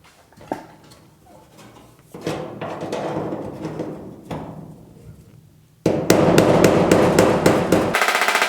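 A hammer taps and pries sheet metal at a classic GTO's welded wheel well, bending the lip over. The sharp metallic strikes come first in scattered hits, then in a rapid, loud close-up run.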